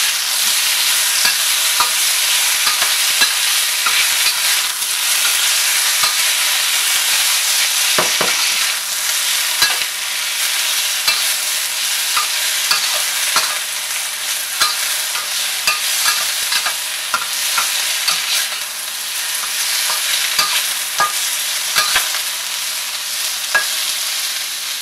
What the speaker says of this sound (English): Now we're going to take all of our tofu and we're going to slowly in bits put it in the wok.